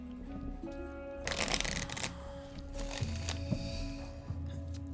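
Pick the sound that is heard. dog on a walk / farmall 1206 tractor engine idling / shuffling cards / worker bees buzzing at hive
shuffling cards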